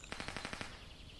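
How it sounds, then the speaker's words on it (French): A quick burst of about seven distant gunshots cracks in a rapid, evenly spaced volley, faint and far off, then fades into quiet ambience. "Je viens d'entendre des coups de feu au loin."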